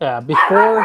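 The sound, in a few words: dog barking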